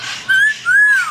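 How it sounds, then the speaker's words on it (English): An African grey parrot whistles two clear, close, loud rising-and-falling notes in quick succession, alone with no talk. "Oh, what a good whistle."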